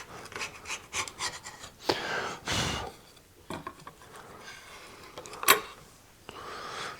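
Wood is shaved down by hand while a Japanese saw is being made, giving a series of close rasping strokes and rubs of varying length, with a few light knocks and pauses between them; no talking.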